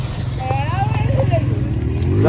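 A motorcycle engine putters nearby with a steady low throb, rising slightly toward the end as it draws closer.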